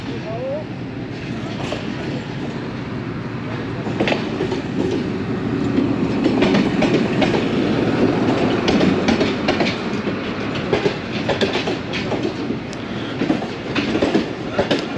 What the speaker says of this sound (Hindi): 15 मिनट डिले के साथ चल रही है ट्रेन। ZCU-20 6403 लीड कर रहा है।